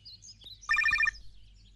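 A telephone rings on an outgoing call, one short burst of bright trilling electronic ring pulses, loud and close against a quiet background.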